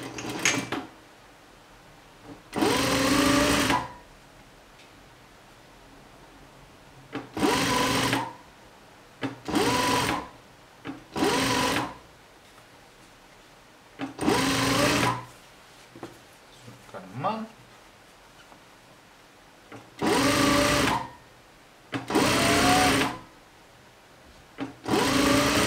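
Sewing machine stitching jacket pieces such as facings, running in a series of short, loud bursts of rapid stitching separated by pauses, with quiet handling sounds between runs.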